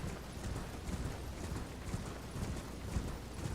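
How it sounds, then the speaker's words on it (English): Hooves of a galloping horse in the video game Elden Ring beat in a fast, steady rhythm, dense and continuous, with a slightly mechanical, game-like texture. "Hop on your horse"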